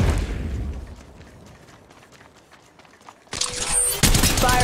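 Gunfire in the battle royale mobile game Apex Legends Mobile: a fading rumble, then a quiet lull, then sudden loud bursts of shots near the end.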